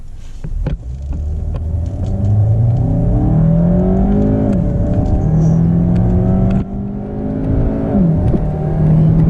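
A Cadillac CTS accelerates hard from a standstill through a 0-60 run, its engine note climbing loud and close through several gear changes, each marked by a brief drop before revving upward again.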